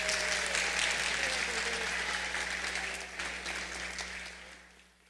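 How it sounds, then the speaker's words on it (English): Audience applause at a high school graduation awards ceremony, a sustained roar of many people clapping that slowly fades, with faint voices and a low steady hum beneath it. "Give her a round of applause, please."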